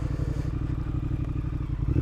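A motorcycle idling steadily nearby with a low, even, pulsing engine note throughout, uninterrupted by voices.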